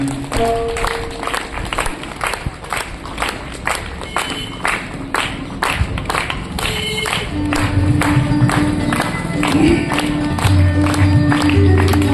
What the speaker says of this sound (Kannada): ಅವರು ಬರುವವರಿಗೆ ನೀವೆಲ್ಲರೂ ಚಪ್ಪಾಳೆ ತಟ್ತಾ ಇರಬೇಕು ಶಿಷ್ಯಂದರು